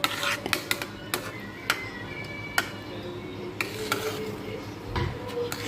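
A thick papaya dessert mixture (papaya vadi/halwa) is stirred and sautéed in a pan over medium heat, making scattered scraping clicks and taps of the spoon against the pan with a low background hum.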